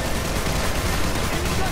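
Continuous gunfire in a sci-fi shooter video game forms a dense, loud barrage of rapid shots with no gaps over a short burst.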